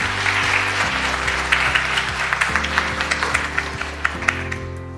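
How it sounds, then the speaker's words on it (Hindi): Steady applause from a seated audience at a motivational talk, a dense wash of many hands clapping continuously with a few sharper claps near the end, over a low droning background. "उसके लिए ताली बजाओ."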